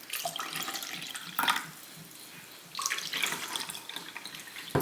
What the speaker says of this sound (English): I'm going to fill these 2 cups with water